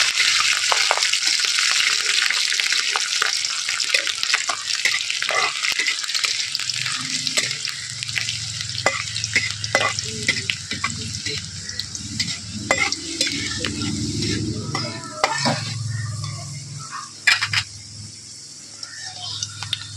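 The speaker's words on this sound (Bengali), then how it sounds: "এই লঙ্কার তেলের মধ্যে দিয়ে দেবো কয়েক কোয়া রসুন। রসুনটা একটু লাল করে ভেজে নেবো।" A few garlic cloves sizzle loudly in hot chili oil, with frequent sharp clicks and scrapes of a spoon stirring in the pan, close up and continuous.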